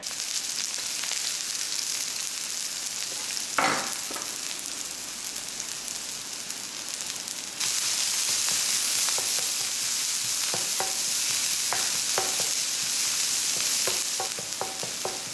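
Onion, garlic and ginger fry in hot oil in a wok, a steady loud sizzle with a burst when the ingredients go in, then a fuller hiss with scattered clinks of stirring.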